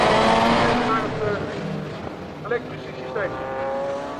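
A Lotus race car racing at Zandvoort in a Supercar Challenge round, engine roar sweeping through gear changes under continuous race commentary.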